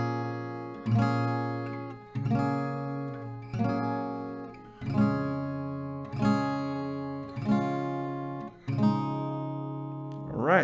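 Strummed acoustic guitar chords from a song intro ring out in a steady pattern, one strum roughly every second and a half, each chord sustaining and fading before the next, close and clear with no talk.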